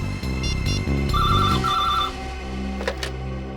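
A telephone rings with a loud, repeating electronic trill in two bursts, then stops, set in a tense nighttime TV crime-drama scene over steady background music.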